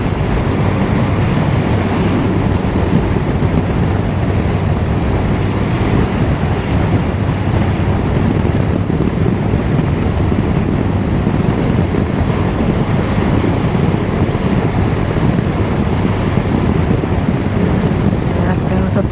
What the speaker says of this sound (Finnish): Vasemmalta tuulee niin kovaa, tuossa on iso jänkkä, niin sieltä se puhaltaa